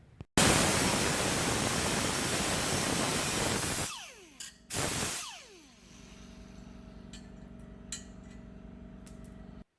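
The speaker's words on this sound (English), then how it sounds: "I'm going to weld the back side" A steel bracket is welded onto an original luggage rack for a vintage Honda CB350, a harsh steady crackling hiss for about four seconds, then a short second burst, followed by quiet ticks and clicks.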